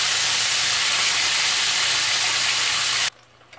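Steady, loud broadband sizzling of tilapia frying in hot oil over high heat, continuous and close, then cutting off abruptly near the end.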